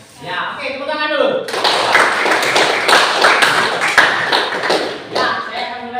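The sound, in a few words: class applauding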